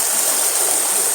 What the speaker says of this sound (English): You can see the waterfall coming down from the creek above.